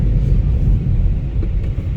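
A 2013 Volkswagen Polo 1.2 petrol Comfortline hatchback drives through the city, heard from inside as a steady, close, low rumble of engine and road noise with no voices.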